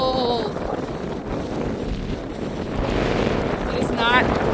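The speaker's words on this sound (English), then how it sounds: "the wind is blowing from the southeast, you guys" Cold southeast wind gusts steadily across a barnyard in winter, a constant loud rush buffeting the microphone throughout, with brief faint animal or bird calls at the start and near the end.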